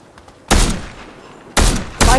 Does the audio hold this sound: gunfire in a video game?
yes